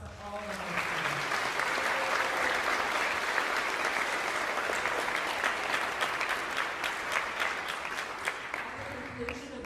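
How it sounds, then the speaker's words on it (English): Sustained audience applause for a high school symphonic band at a band camp concert, dense and steady clapping throughout, with brief voices at the start and end. "Let's give one more round of applause for all the high school."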